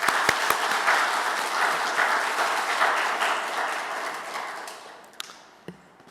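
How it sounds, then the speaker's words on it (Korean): A church congregation claps in sustained applause, loud and dense at first with a few sharp claps standing out, then thinning and fading away over the last second. "우리 박수로 격려하도록 하겠습니다."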